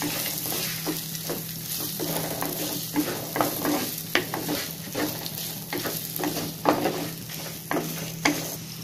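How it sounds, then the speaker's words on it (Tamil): Onions sauté for a village-style fish curry, sizzling steadily in oil while a spoon stirs and scrapes repeatedly in an uneven rhythm, close and fairly loud, with no voices. "வெங்காயம் வந்து நல்லா வதங்கட்டும்"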